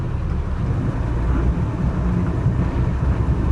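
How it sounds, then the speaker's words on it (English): A twin-engine boat pushes ahead on both engines while docking, a steady, loud low rumble that holds evenly throughout. "And giving a push with both engines"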